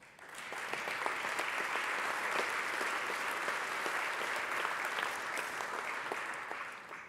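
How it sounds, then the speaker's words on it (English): Legislators in the Texas House chamber in Austin break into a sustained round of applause, dense steady clapping from many hands filling the hall at an even level throughout. "I ask my fellow members to join me in showing our appreciation to each other with a round of applause."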